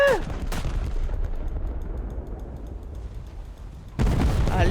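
Naval gunfire from French warships of 1916 to 1930 in War Thunder, with sharp booming shots at the start and end of the clip, quieter rumbling between them, and a few short spoken words.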